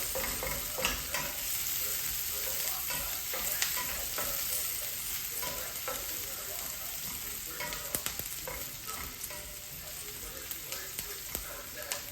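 Garlic and onion cooking in a pan with a continuous, even sizzle and frequent light ticks and stirring scrapes, close up and steady for the whole stretch, with no voice over it.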